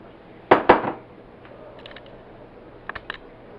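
A stand mixer's top is locked into place with two sharp, loud mechanical clacks close together, followed by lighter clicks and a few small rattles later.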